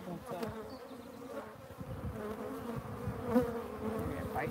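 Honey bees buzzing at an open hive, a thick agitated hum with bees darting close by, steady and near throughout.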